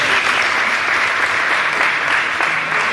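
A large audience applauds at a gathering, a dense, steady clatter of many hands clapping continuously at close range, loud and sustained without pause.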